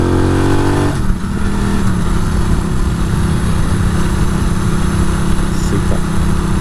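A new Norton Commando 961 motorcycle is ridden flat out, its engine loud and close. The rising revs break at a gear change, then settle into a hard, steady drone mixed with strong wind noise.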